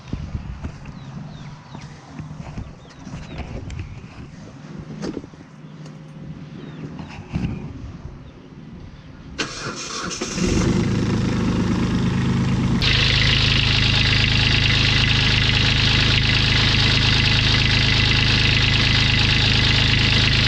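A Kubota tractor engine, just serviced with a new fuel filter and serpentine belt, cranks and catches midway, then settles into a loud, steady diesel idle that carries on to the end.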